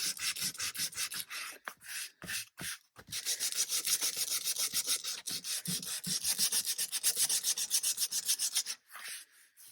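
Rapid rhythmic scraping of a sanding block on wood, with a couple of brief pauses, close and steady throughout.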